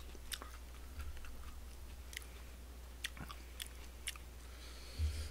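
Crisp napa cabbage wrap with barbecued pork being chewed, a steady run of quiet close crunches and bites with a few sharper snaps, no talking.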